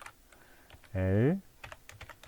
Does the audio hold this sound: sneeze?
no